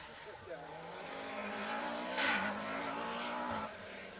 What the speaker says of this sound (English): the sound of rally cars